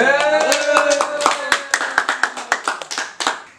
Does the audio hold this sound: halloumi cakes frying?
no